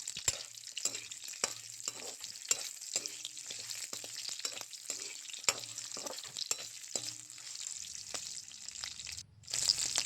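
Dried smoked meat sizzles steadily in a hot pan for a Tripuri dish while a utensil stirs it, adding rhythmic scrapes and rustles over the constant frying hiss.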